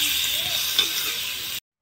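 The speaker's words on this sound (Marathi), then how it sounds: "कांदा टाकलाय, तेल टाकलंय आणि तेलात कांदा फ्राय करायला टाकलाय" Onion frying in oil over a wood-fired village stove, a dense close sizzle with a brief stirring scrape in the middle, cutting off abruptly.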